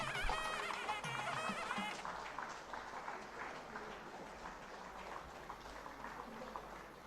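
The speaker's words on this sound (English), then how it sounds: "Let us welcome our guests with thunderous applause" Audience applause welcoming guests into an auditorium at a vigilance awareness week inaugural function, soft crowd clapping in a large room, continuous and fairly faint, with brief background music at the start.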